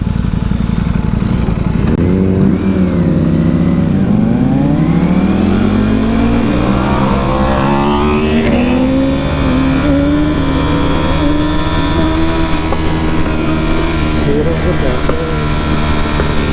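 An Aprilia sport motorcycle revs loudly and up close, the engine pitch sweeping up and down with throaty exhaust pops over steady wind noise for a long stretch.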